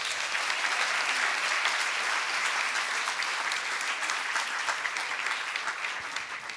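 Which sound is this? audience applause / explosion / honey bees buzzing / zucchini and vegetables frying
audience applause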